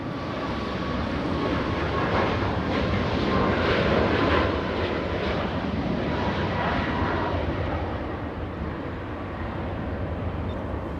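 British Airways Speedbird 283 jet at LAX, engines giving a loud, dense, continuous roar close by that peaks around the middle and then eases slightly.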